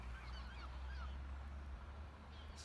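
Seagulls calling at a beach during a winter bike ride in Ayr, with several faint, chirpy cries over steady low wind rumble and no talking.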